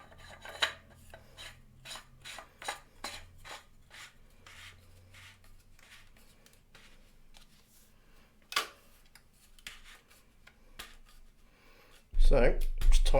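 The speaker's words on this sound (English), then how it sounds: "Screw the collar on the right way." A plastic collar is screwed onto a Thrustmaster T818 direct-drive wheel base, giving a run of close, dry rasping and clicking turns that pause midway, then resume briefly before a louder handling thump at the end.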